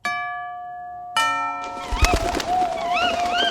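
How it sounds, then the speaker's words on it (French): After a ringing doorbell chime at a large red-brick house, owls call out as they take flight, a series of wavering hoots rising over the fading bell tone. "Les hiboux s'envolent en poussant des ululements."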